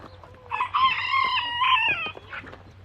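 Rooster crowing once in a long, wavering call lasting over a second, fairly close, followed by a few soft clucks, with rain and a free-ranging flock outdoors.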